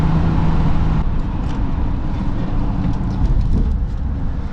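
A vintage 1968 Mercedes-Benz W108 drives along city streets, its engine a steady low rumble with road noise from inside the car, no talk.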